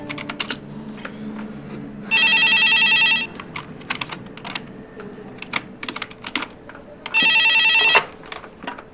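A telephone rings in two bursts, each about a second long, over nearby keyboard typing and clicks that continue throughout.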